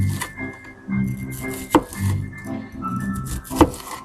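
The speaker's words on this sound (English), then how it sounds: "an onion cut up, I'm showing you a trick" A knife cuts up a sweet onion with steady, fairly close chops, several thuds landing at regular intervals with a couple of louder strikes and no talking.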